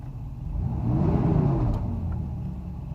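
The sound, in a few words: Mercedes 600SL engine revving while cold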